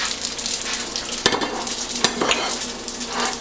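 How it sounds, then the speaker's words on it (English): Egg rolls frying flat side down in hot olive oil in a skillet give a steady close sizzle and crackle, broken by a couple of sharp clinks of a utensil against the pan. "you're going to put the flat side down into some nice hot oil"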